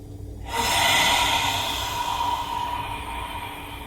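Deep breathing during a yoga breathing exercise: a sharp, forceful inhale through the nose starts after a brief silence, then a long, steady rush of air continues, close and fairly loud, with no talking.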